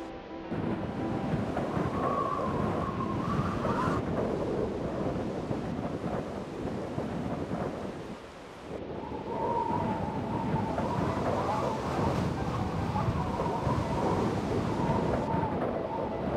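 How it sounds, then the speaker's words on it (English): Continuous heavy Minecraft video game rain with deep rolling thunder rumbling through, a brief lull midway before the storm swells again. "Still raining."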